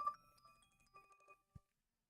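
A telephone rings for an incoming call, a quiet electronic tone pulsing for about a second and a half before cutting off, followed by a brief low thump.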